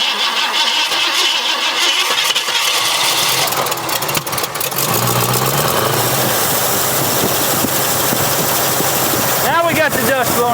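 An abandoned Ford F100 truck engine cranks, catches and runs roughly with the throttle held open, a loud, uneven mid-pitched idle with bursts of revving and a voice talking over it.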